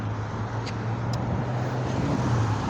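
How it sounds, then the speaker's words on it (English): Road traffic rolls past in a steady broad rumble of engines and tires, with a low drone throughout and a couple of faint higher squeaks. "We got some traffic."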